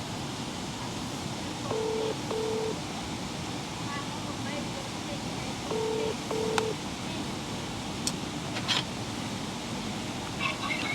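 Touch-tone telephone keypad dialing before a call: two short bursts of paired beeps, a couple of seconds apart, over a steady wash of background hiss and wind.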